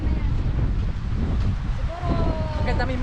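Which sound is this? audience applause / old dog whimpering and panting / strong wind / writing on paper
strong wind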